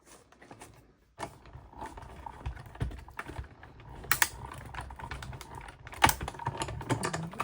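A die-cutting machine presses shapes through stacked plates with a number 3 plate on top, giving a steady run of clicking, clattering mechanical sounds with several sharper knocks, close and moderately loud, no voices.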